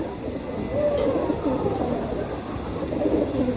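A flock of pigeons coos continuously in a low, murmuring chorus, moderately near, with faint background noise and no clear talk.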